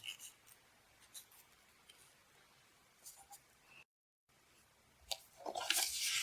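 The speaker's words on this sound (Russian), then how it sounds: "Сначала отрежем тоненькую резиночку" Scissors snip through a thin rubber elastic band in a few short, crisp clicks, followed by a louder burst of rustling and crunching close to the microphone.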